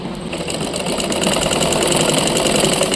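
A sewing machine stitches around the folded edge of a Punjabi dress collar, running as a steady, continuous mechanical whir with a fast, even rhythm, close and fairly loud, with no talking over it.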